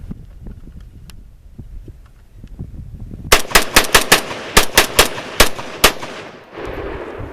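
An SKS rifle fires around ten sharp, loud shots in a fairly even rhythm during a mud test, following a stretch of quiet outdoor rustling and wind.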